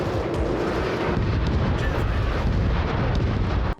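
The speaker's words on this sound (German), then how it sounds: "Oder einen Luftschlag auf die feindlichen Einheiten einsetzen" In the video game Crossfire Legion, an airstrike bombardment sets off a dense, continuous roar of blasts and rumbling explosions, loud and sustained throughout before cutting off abruptly at the end.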